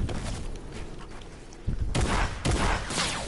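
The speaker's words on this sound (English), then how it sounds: "someone's using the boom bow" Boom bow explosive arrows in a video game fire off a rapid burst of blasts, then several heavier booms close together, loud and harsh over a noisy background.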